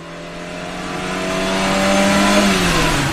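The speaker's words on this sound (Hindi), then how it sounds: "जैसे ही विक्रम की गाड़ी की आवाज दूर होती है" A car engine revs and pulls away, a steady loud drone whose pitch rises then slides downward as it recedes, heard alone with no voices.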